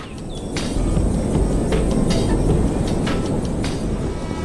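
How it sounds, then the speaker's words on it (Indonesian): Steam train running along the tracks through a quiet countryside, a loud continuous rumble with rhythmic clicking of wheels and faint higher squeals, no voices. "Lihatlah, kereta uap itu melaju dengan anggun membelah pemandangan desa yang tenang."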